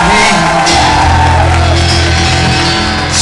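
A live audience in a tunnel setting shouts, whoops and cheers loudly and continuously, a dense wall of crowd noise with no pauses.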